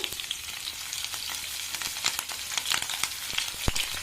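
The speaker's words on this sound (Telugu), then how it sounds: "అన్నీ వేసి దోరగా వేయించండి" Mustard seeds, cumin and chopped green chillies with turmeric fry in hot oil for a gram flour curry, giving a steady, close crackling sizzle with sharp little pops scattered throughout.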